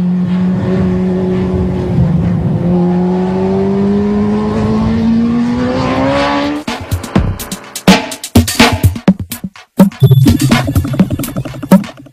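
A racing motorcycle roars loud and steady as its pitch climbs, then the rider works the throttle unevenly, sending out choppy, stuttering bursts of revving.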